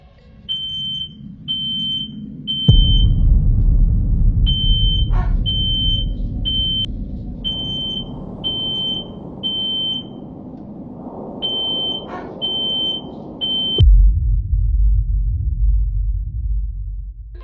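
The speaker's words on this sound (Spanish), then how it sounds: "Luego de que la alarma se activa repentinamente" A home smoke-type alarm goes off suddenly at night inside a family residence, sounding loud, repeated high electronic beeps in groups of three with short gaps, over a steady low rumble and background noise.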